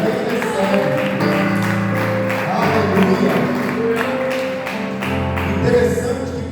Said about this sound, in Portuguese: Aplauda o Senhor de glória.